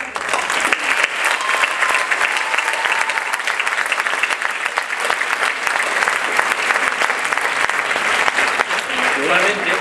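A graduation ceremony crowd claps steadily and densely for about ten seconds, a sustained wash of applause at even volume.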